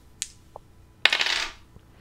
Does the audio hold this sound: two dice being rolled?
yes